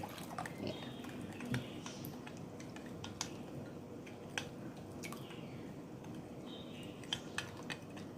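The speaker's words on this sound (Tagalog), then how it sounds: "Lagyan na natin ng tubig. Mix na natin." A thin escabeche sauce of ketchup and water is stirred in a bowl, giving soft wet squishing and occasional light taps of the utensil, quiet and close, with no speech.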